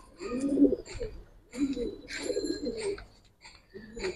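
Giribaz pigeons at a pigeon farm coo in several close, throaty, rolling calls, one after another with brief pauses between.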